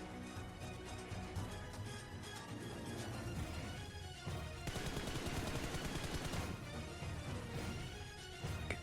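Rapid gunfire crackles through a PUBG Mobile (BGMI) fight, dense bursts of shots running almost continuously, with a grenade blast folded into the barrage, loud and busy with no talking.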